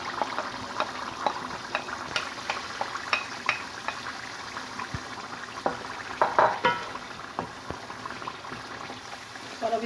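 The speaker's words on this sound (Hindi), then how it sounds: "ये देखिए दही जो हमारी भून गई है। अब इसमें मैं टमाटर ऐड करूँगी जो हमने ग्राइंड किए थे।" Ground tomatoes added to yogurt that has been fried in a pan for a tandoori chicken curry, sizzling steadily with scattered clicks and scrapes of stirring, close and moderately loud.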